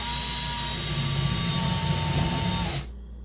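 Power drill boring angled holes into wood while building a horizontal Layens beehive, a loud steady whine that runs continuously close by and then stops abruptly.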